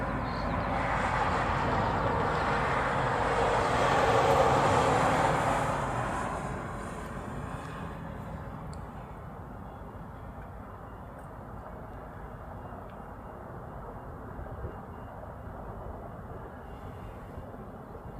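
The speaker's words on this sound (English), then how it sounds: "This will be a Dreamliner. It is currently on very short final." An ANA Boeing 787 Dreamliner on very short final roars past, swelling to a broad peak within the first seconds and then fading into a lingering distant rumble, with no voices.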